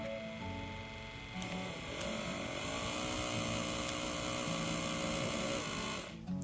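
An Atlas N-scale locomotive fitted with a TCS DCC decoder runs on a test layout, giving a faint, steady high-pitched motor whir with gear buzz that continues evenly and then cuts off.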